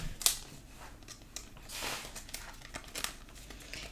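Plastic sleeve rustles and crinkles as a Pokemon promo card slides in, with soft scattered crackles and a sharper snap early on, all quiet and close with no voices.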